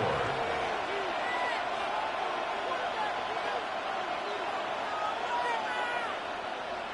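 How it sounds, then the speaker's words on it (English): Stadium crowd noise in a football video game, a constant dense roar with faint whistles and shouts in it, heard under a commentator's talk throughout. "The crowd making their presence felt."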